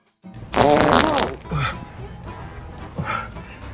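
A loud, drawn-out fart prank sound on a comedy talk show's April Fool's special, followed by two shorter, quieter blasts, all close and prominent.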